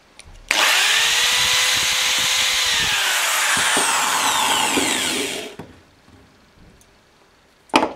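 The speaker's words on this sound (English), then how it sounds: "Okay, so I've drilled through the shell." A power drill bores through a shotgun shell held steady with pliers, a loud continuous whine with a rising pitch sweep that runs for about five seconds, then stops, leaving a few small clicks and a final knock.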